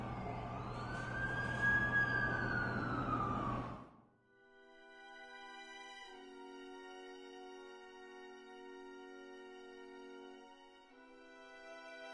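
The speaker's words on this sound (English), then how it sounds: "That's the ambulance I called." An ambulance siren wails, first sweeping up and down and loud, then cutting to a steadier held tone that carries on at a moderate level, with no talking.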